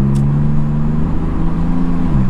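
A Corrado R32 Bi-Turbo with DSG, recently stalling, idles steadily up close, its engine a continuous low hum with a slight rise in pitch midway and no voices over it.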